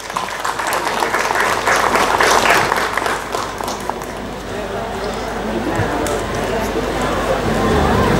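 A crowd gives a strong round of applause at the official inauguration of Expo Yguazú 2022, with dense, steady clapping that dips slightly midway and swells again, and voices faintly mixed in.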